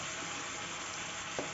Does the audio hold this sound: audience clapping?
no